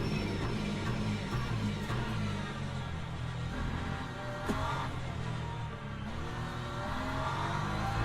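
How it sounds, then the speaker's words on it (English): A BMW race car in Le Mans Ultimate at Spa, its engine droning loud and close as it pulls hard out of a slow corner, pitch climbing through the gears in a steady unbroken roar. "The BMW's just got really quick traction and acceleration"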